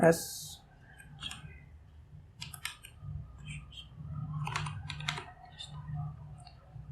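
Typing a username on a computer keyboard while setting up a Fiverr account: quick irregular clusters of close key clicks over a low hum, with a voice briefly speaking.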